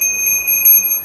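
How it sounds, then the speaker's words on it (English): A Brompton folding bike's bell sounds in a few quick bright rings over a steady high ringing tone, close and fairly loud, with no voices. "if you ring the bell"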